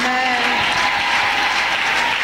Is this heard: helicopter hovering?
no